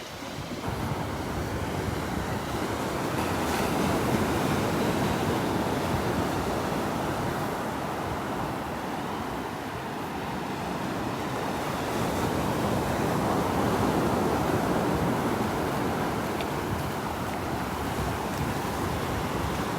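Rough surf rolls onto the beach at Delnor-Wiggins, a loud, continuous roar of breaking waves that swells and eases, with wind buffeting the microphone and no voices.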